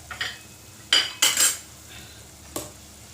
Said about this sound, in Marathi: आता यात आपल्याला तांदूळ टाकायचे